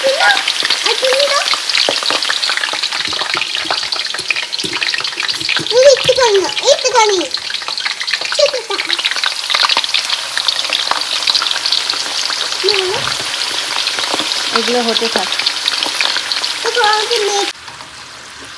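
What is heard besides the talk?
potato chips frying in oil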